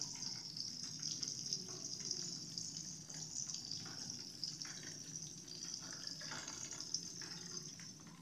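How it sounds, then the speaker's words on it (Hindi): Masala-coated grass carp pieces deep frying in oil in a kadai over medium heat give off a faint, steady hiss with light crackling throughout, quiet and unbroken. "डीप फ्राई करेंगे हम फ़िश को।"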